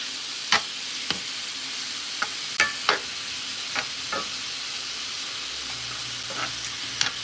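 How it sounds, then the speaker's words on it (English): Thin-sliced chicken sizzles in a hot pan, a steady bright hiss of frying punctuated by sharp scraping taps as it is stirred and spread out, close and moderately loud. "we're just gonna toss this chicken in and start cooking. You hear that sizzle?"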